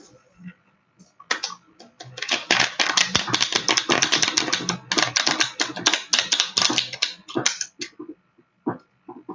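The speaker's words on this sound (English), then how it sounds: "Shuffling 2 decks together." A rapid flurry of crisp card flicks as two decks are shuffled together, close and loud, in two long bursts with short pauses between.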